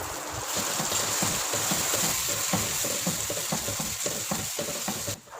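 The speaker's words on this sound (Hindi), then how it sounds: "मसालों को हमने अच्छी तरह से भून लेना है।" Tomato paste, chili paste, red chili, crushed chili and salt fry in a pan for a mutton kofta curry, a steady close sizzle broken by repeated scraping stirs of a utensil.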